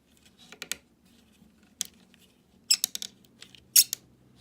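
Squeaks and clicks from the tight ball-jointed neck of a Master Made Caesar/Overlord action figure come in short bursts with quiet gaps, close up and alone.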